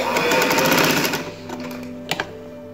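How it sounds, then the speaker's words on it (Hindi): Sewing machine stitching the elastic casing of a trouser waistband, a loud steady needle chatter for about a second that slows and fades, followed by a brief click. "यहाँ से इसको आप सिलाई लगा लें इस तरह से"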